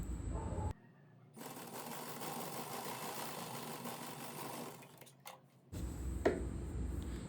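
A sewing machine runs a steady, fast stitch along a blouse dart, humming continuously for several seconds and then pausing briefly before it starts again.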